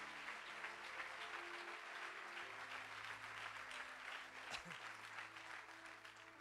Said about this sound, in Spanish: hágalo más fuerte, por favor.